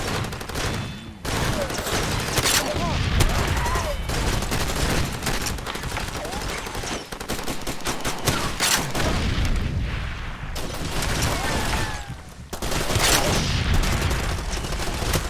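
Rapid bursts of gunfire and heavy booming explosions in the video game Far Cry 2 crowd together in a dense, chaotic battle din, loud and continuous with brief lulls.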